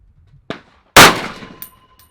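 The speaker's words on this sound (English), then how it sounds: "Pop some rounds down range." Rifle fire from a Double Star STAR-10B on an outdoor range: a sharp crack, then a louder booming report that rings out and trails off, with a faint metallic ping just after.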